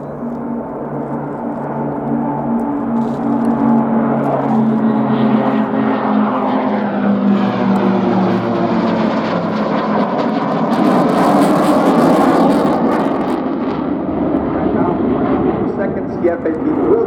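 An eight-aircraft display team flies at the Royal International Air Tattoo 2022 air show, a loud, sustained roar of engines that swells and sweeps past, with a commentator's voice running over it throughout.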